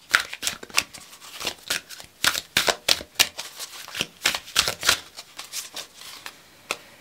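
A deck of tarot cards is shuffled up close in a rapid series of crisp riffling and flicking bursts, uneven in rhythm, with no talking over it.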